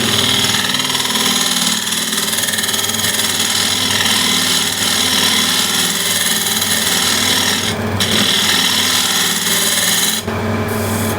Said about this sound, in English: And I'll do that actually with the scraper.